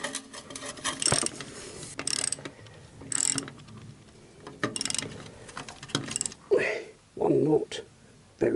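Ratchet working rusty bolts loose on the silencers of a Yamaha XJ900S motorcycle, giving several short clicking bursts with pauses between them and some clanking handling noise, under intermittent talk.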